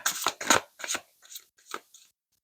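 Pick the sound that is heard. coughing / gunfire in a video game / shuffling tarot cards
shuffling tarot cards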